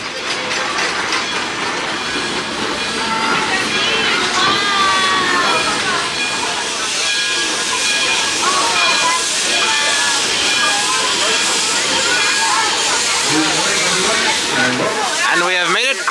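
A steam train rolls through a redwood forest with a steady rumble, hiss and faint rattling of cars, voices of riders chattering nearby throughout.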